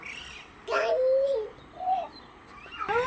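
Birds perched on a neem tree branch in an open field give soft, close cooing calls in a few rising phrases, with a brief chirp at the end over faint outdoor ambience.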